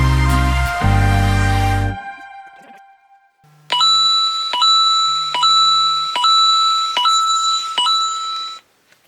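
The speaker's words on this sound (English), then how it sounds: "let's get our timer going" A kitchen timer alarm beeps about six times in an even, loud series of ringing tones, after a short burst of other kitchen noise at the start.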